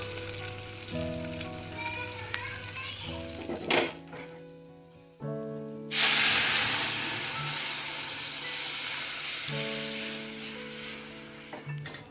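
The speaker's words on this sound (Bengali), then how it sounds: "ছোটো মাছের চচ্চড়ির জন্য যে আলুটা ভাজবো সেটাও এদিকে বসিয়ে দিয়েছি" Potatoes for a small-fish curry sizzle in hot oil in a pan. The frying hiss is softer at first, then swells into a loud, steady crackle that holds to the end over a faint tonal background.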